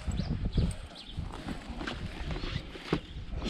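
Hooves clop slowly and unevenly on the ground as a mare walks nearby, with rustling and outdoor background noise.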